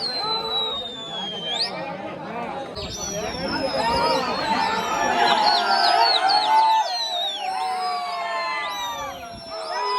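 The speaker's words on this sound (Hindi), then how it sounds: "शौक देखने वालों की भीड़ देखो भाई।" Rooftop spectators at a kabutar bazi pigeon-flying contest in Agra, a broad hubbub of many voices with chatter, shouts and cheering rising through the middle, sustained and fairly loud throughout.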